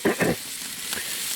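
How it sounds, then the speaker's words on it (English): Italian sausages and burgers sizzle steadily on an outdoor grill in cold weather, a continuous bright hiss with a couple of brief louder bumps early on. "We got Italians and burgers on the grill."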